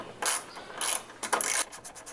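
Ratchet clicking in three bursts while M8 by 1.25 stainless steel bolts, 20 mm long and spray-painted, are tightened into a Suzuki Samurai with the doors removed. The mechanical clatter is close and fairly loud, with no talk.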